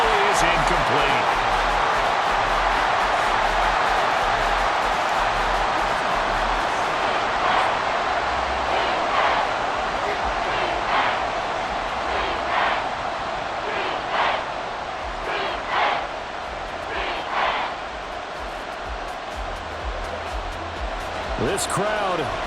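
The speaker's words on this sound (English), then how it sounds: "This crowd turning up the decibel level." A simulated stadium crowd roars continuously during a Madden NFL 24 Colts vs Panthers game in Charlotte, with swelling noise and repeated sharp claps and bangs, while a commentator talks over it throughout.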